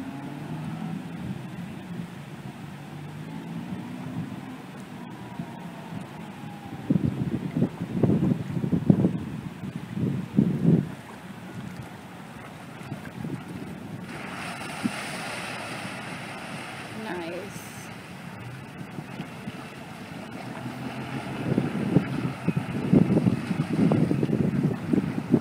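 An amphibious water car built by Fountain Valley Body Works runs across the water at a distance, its motor a low rumble under steady wind noise that swells in a few louder surges, with faint voices now and then.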